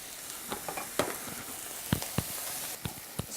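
Spinach tossed into a pan of frying orange-flesh sweet potato and mushroom, a soft steady sizzle with scattered light ticks and clicks of stirring, fairly quiet.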